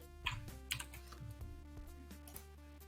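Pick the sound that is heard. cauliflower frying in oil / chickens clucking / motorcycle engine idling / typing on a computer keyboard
typing on a computer keyboard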